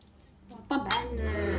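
Tuna and thyme are mixed in a bowl for mini pizzas: a utensil clinks and scrapes against the dish, a sharp knock followed by steady soft stirring, close and quiet.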